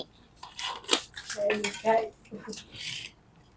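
Prawn fry being served onto a plate, with several clinks and scrapes of utensils against dishware, moderately close, mixed with soft background murmur.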